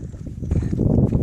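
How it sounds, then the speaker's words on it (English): Horses walking near a fishing spot, with soft hoof clops and shuffling steps close by over a low, muffled background. "To feed the horses, but I think the horses are feeding themselves."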